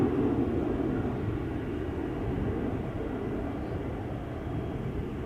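A KLM Boeing 737 bound for Munich takes off at Schiphol, heard as a steady, moderately distant broadband jet roar that holds evenly and fades slightly over several seconds.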